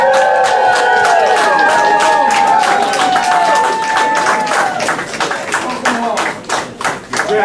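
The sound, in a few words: crowd applauding and cheering to welcome home veterans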